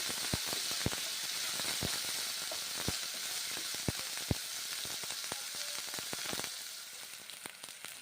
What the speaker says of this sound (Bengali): বেশ ভালো করে ভেজে নিচ্ছি।